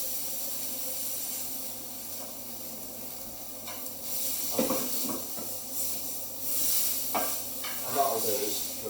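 Pork searing in a lightly oiled pan, a soft continuous sizzle and hiss with a few scraping bursts midway, heard close and alone without talk.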